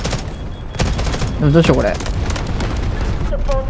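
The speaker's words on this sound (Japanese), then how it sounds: "これ敵の空爆っすわ。" In the video game Delta Force: Hawk Ops, an enemy airstrike lands as a burst of booming blasts and rapid gunfire, loud and close, while a player speaks over the chaos.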